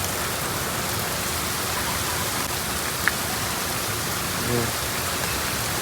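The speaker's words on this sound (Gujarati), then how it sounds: "બહુ ભારે વાવાઝોડા જોયું અને બહુ ભારે વરસાદ અને બહુ ભારે પવન" Dense, steady rush of heavy rain in a windstorm with strong wind, loud and unbroken, with a couple of faint brief sounds briefly poking through the downpour.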